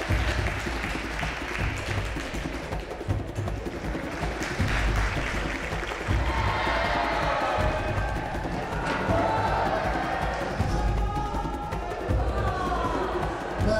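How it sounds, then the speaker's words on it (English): Audience applause and cheering for a contestant named Charles at a televised antiques auction show, a broad sustained crowd roar with clapping that swells midway and continues steadily for the full length, with a presenter's voice faintly under it. "Very big round of applause for Charles there."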